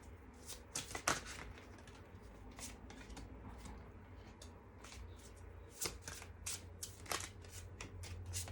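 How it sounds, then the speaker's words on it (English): Tarot cards being pulled from the deck and shuffled, a quiet run of soft riffling and flicking card sounds in irregular bursts, close by with no talking. "I'm just going to pull these cards out and then we'll begin."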